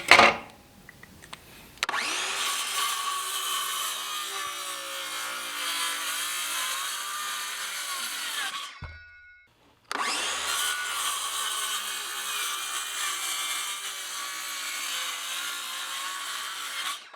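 A power saw cuts wood for a cold-weather rabbit nest box in two long, loud whining passes split by a brief pause, close and steady, with no talking.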